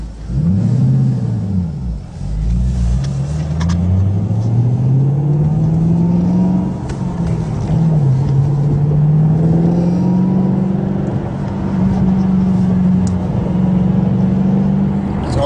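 Ford Mustang Boss 302 V8 engine revving and accelerating on a test drive, a loud, close rumbling engine note climbing in pitch through repeated pulls and shifts, sustained throughout.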